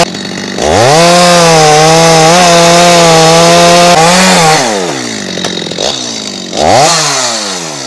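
Chainsaw engine roaring steadily while cutting through a huge tree trunk, loud and close, with the pitch sagging under load and then revving back up in bursts toward the end.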